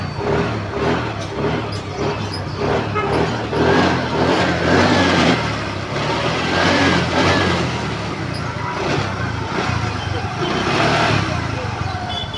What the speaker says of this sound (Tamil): நம்ம இப்போ கீ ஆன் பண்ணிவிட்டு ஸ்டார்ட் பண்ணி பார்க்குறோம். பார்த்தீங்கன்னா கரெக்டாக ஸ்டார்ட் ஆகிடுது.